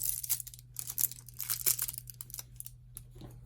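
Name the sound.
crinkling fusible film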